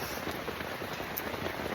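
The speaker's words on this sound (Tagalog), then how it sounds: "Umuulan. Sobrang lakas." Steady, dense heavy rain pouring down and pattering hard on a surface at a campsite, a continuous loud hiss with no voices.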